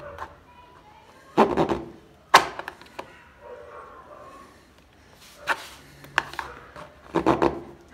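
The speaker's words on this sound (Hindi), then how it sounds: "ये तो देखो कितनी अच्छी तरह से काट रहा है, बट इसमें फंस रहा है कि प्लास्टिक हार्ड हो रही है" Hard plastic motorcycle mudguard from a Hero Splendor being cut, giving several short scraping, snapping bursts spaced irregularly with quiet gaps between, fairly close and moderately loud, with no talk over it.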